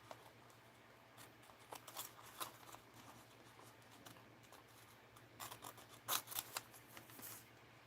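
Scissors snip paper cutouts from a small quilters magazine, giving quiet, irregular crisp cuts in short bursts with brief pauses, the sharpest snip near the end, over a faint steady hum.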